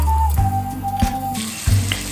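Steamed potato dropped into a hot cooking pot while preparing baby food, a loud close sizzle and splash with a few plopping impacts over about two seconds, no speech.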